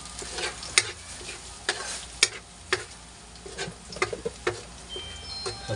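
Garlic frying in a pan for a squid dish, a crackling sizzle broken by repeated sharp scraping stirs at an irregular rhythm, close and clear with no talking.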